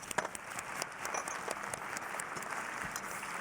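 Applause from an audience at a culinary demonstration during a food dialogue event, a steady, fairly faint patter of many hands clapping throughout, mixed with some room noise.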